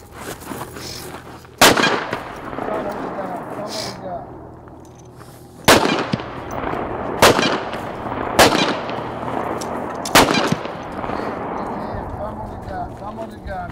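Sharp, loud handgun shots during a concealed carry shooting drill, five cracks spaced irregularly over a steady outdoor background, with voices calling commands between them.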